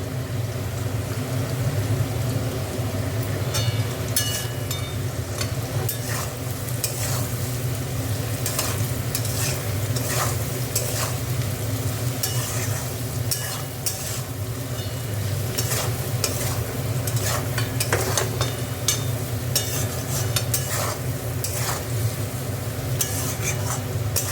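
Steady sizzling of beans and potatoes in a hot pan with frequent scraping and stirring strokes of a utensil, continuous throughout at close range.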